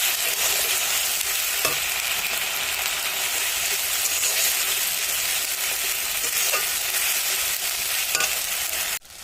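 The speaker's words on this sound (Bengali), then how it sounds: "পেঁয়াজগুলো ভাজা হয়ে গেছে, আদা, রসুন, শুকনো লঙ্কা আর জিরে বাটা একসঙ্গে পেস্ট দিয়ে দেবো।" Ginger, garlic, dried chili and cumin paste fries with onions in a pan for a mutton dish, a steady broadband sizzle running throughout with occasional stirring scrapes, close and loud, with no talking.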